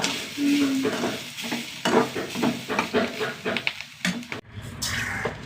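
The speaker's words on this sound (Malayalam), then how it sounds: "സാമ്പാറ് വറുത്തെടുക്കട്ടെ കേട്ടാ" Sambar ingredients roasting in a pan for a festive meal, with repeated scraping strokes of a stirring spoon and a light sizzle, close up, while voices talk underneath and metal utensils clink near the end.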